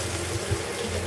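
Water runs steadily from a kitchen tap while tortilla dough is being mixed, a constant close hiss with no voices.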